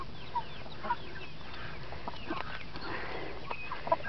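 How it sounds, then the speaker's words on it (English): A backyard hen, a cross between a rooster and a dark Cornish, clucks in short, soft bursts, with a rooster-type bird close by and scattered faint calls in a quiet outdoor setting. "That's my hen."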